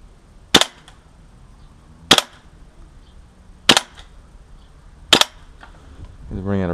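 An HPA Scar V2 airsoft rifle fired with a standard gas magazine: four sharp, loud single shots spaced evenly about a second and a half apart, followed by a rising hiss at the end.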